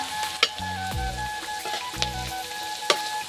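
Chickpeas and green chilies fry in a wok with a steady close sizzle, broken by a few sharp scraping stirs of the spatula, and no one speaks.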